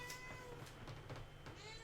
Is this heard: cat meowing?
yes